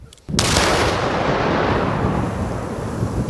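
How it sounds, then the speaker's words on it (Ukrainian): A single heavy blast from the electric detonation of an unexploded rocket erupts abruptly and rolls into a long, loud, rumbling roar that fills the rest of the clip. "Її обстежили і знищили на місці шляхом електропідриву"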